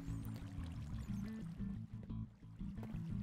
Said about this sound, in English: you can hear the water going in there.